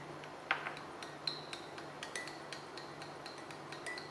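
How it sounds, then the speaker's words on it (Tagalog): A spoon stirs evaporated milk into a cup of classic milk tea, giving faint, irregular clinks and taps against the cup over a steady low background hum. "So, haluin na mabuti."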